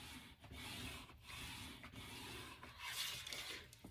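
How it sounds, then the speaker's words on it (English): Alpha stickers are pressed down with a bone folder in a few short, close rubbing strokes, each a dry scraping swipe separated by brief pauses, with no talking. "I am going to use my bone folder to kind of burnish everything down, make sure it's all well stuck"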